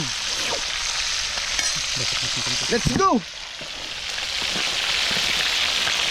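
Steady frying sizzle of fish in a pan fills the background, a broad hiss continuing throughout, with a brief spoken exclamation near the middle.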